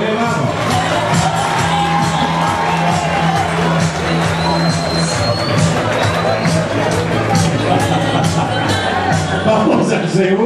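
An audience at an Italian community-centre dinner applauds and cheers. Claps, whoops and loud crowd chatter blend into a dense, steady wash throughout.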